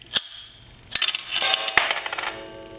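Coins drop into a chrome A&E three-slot payphone and strike its internal gong, giving sharp metallic clanks followed by a bright ringing tone that sustains and decays, close and loud.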